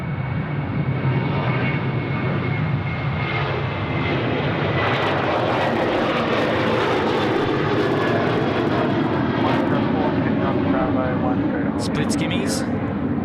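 A Velocity jet airliner rolls for takeoff on runway 34 right at Sydney Airport, its engine roar broad and steady, building in the second half amid constant wind-like rumble, with radio chatter faintly present.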